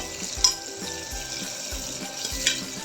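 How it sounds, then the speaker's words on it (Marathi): Finely chopped tomatoes going into golden brown frying onions in a pan for veg pulao, a low sizzle with a few soft thumps and stirring scrapes, close and without talk. "इथे मी दोन बारीक चिरलेले टोमॅटो ऍड करते"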